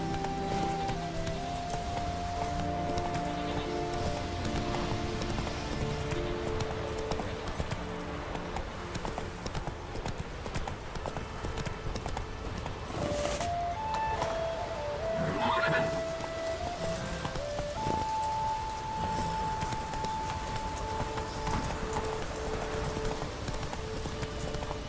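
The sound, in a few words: hoofbeats of Roach the horse, from video game Witcher 3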